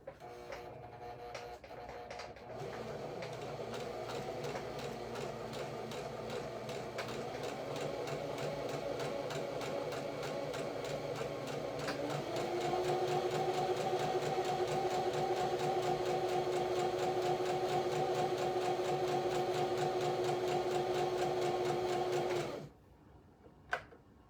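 Sewing machine running gathering stitches, a continuous rapid mechanical whir with a steady pitch that shifts upward midway, running about twenty seconds before stopping abruptly, close and moderately quiet.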